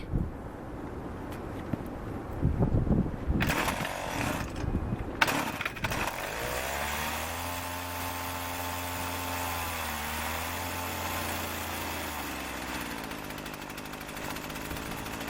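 A Stihl FS 80 string trimmer engine idles steadily after a few sharp revs and clatters at the start, its low hum dipping slightly in pitch as the idle is lowered, close by and without speech.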